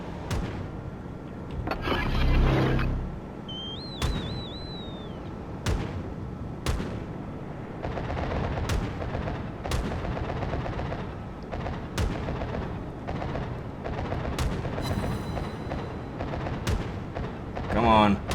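Naval guns boom in repeated heavy salvos during a World of Warships battle with a Myoko-class cruiser, sharp blasts landing every second or two over rumbling engine and sea noise, with someone talking between shots.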